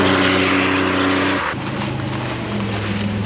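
A 1987 Buick Turbo T drives by loud and close, its steady engine note shifting in pitch midway as it passes, with no talking.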